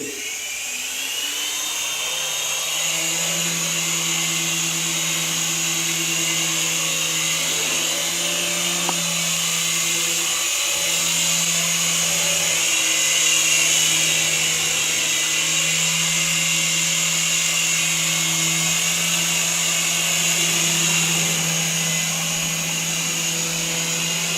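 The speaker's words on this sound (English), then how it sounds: "time for our young reviewer Kaya to try out the 3-channel Syma helicopter" A small Syma 3-channel toy RC helicopter's motor whirs and whines steadily and close by, holding a high buzzing tone with slight wavering.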